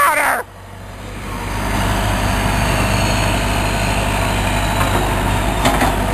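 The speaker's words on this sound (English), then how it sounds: "Another truck!" After a brief sharp sound, a truck's engine rumble swells and holds steady as it drives past nearby.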